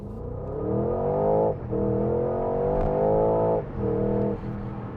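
A 500-horsepower V8 in a 2025 Porsche Cayenne GTS revs loudly and repeatedly in sport mode with the exhaust button on, holding high with brief dips between surges, rumbling exhaust close by.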